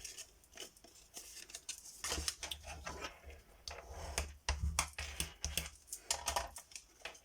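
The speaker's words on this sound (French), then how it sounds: "On prend notre petit papier et on va venir marquer les plis." Paper being scored along fold lines for an Easter pop-up card, making quiet, close clicking and tapping strokes in irregular bursts.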